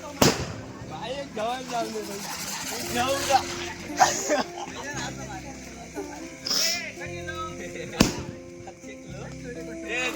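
Firecrackers and rockets go off during a predawn Narakasura effigy burning, with sharp loud bangs at intervals, whistling rocket streaks and crackles, while people talk and chatter throughout.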